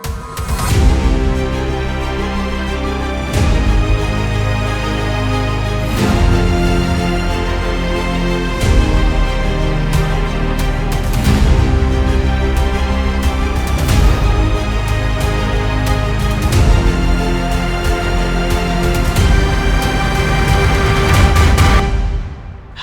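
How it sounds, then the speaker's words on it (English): A loud, dense hybrid orchestral track swells with heavy low hits, sustained strings and bright layered textures, building in sections over its full length with no voices. "creating some hybrid orchestral music like what we just listened to"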